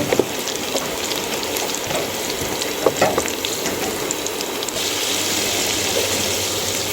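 Chillies and onions frying in a pan with spices going in, a dense continuous sizzle close by with a few scraping stir sounds, growing slightly fuller toward the end, no voices.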